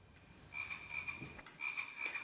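A toy frog with a light sensor croaks when its sensor is blocked, giving two quick bursts of high, electronic, rhythmic croaking close by and faintly, separated by a brief pause, with no talking.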